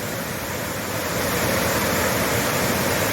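A tall waterfall near Luang Prabang, Laos, roughly 70 meters high, roars as a steady, dense rush of falling water, loud and unbroken with no voices.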